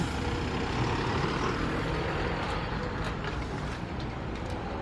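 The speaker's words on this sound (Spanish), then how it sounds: "Es un minibús Mascarello Gran Micro, chasis Mercedes-Benz, motor frontal, con capacidad para 42 pasajeros." A Mascarello Gran Micro minibus on a Mercedes-Benz chassis with a front engine, rumbling steadily amid busy rush-hour street traffic in Santiago de Chile, with a broad continuous engine drone and no voices.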